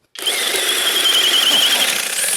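A Flex power tool cutting drywall in turbo mode starts abruptly and runs at a loud, high-pitched whining buzz with a steady tone, close and alone.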